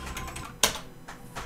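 A few keystrokes on a computer keyboard, one sharp clack standing out among softer taps, close and quiet.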